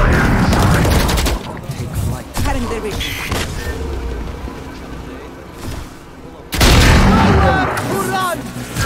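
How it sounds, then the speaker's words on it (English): A grenade blast and heavy gunfire in the video game Valorant, with loud booming bursts at the start and again later, separated by quieter stretches of game noise and scattered shots. "Grenade."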